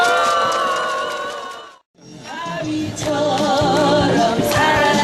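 A crowd at a Wednesday rally seeking resolution of the Japanese military comfort women issue breaks into applause and cheering, with a brief hush near the two-second mark before the noise swells again.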